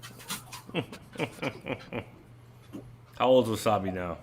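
A dog pants in short, rhythmic bursts close by, with soft whimpers, before people start talking over it.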